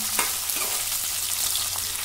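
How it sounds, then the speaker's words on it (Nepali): Onions fry in a pan with a steady close sizzle, punctuated by a few soft scrapes and taps of stirring. "अब प्याज राम्रोसँग चलाउँछु भुटिन दिन्छु"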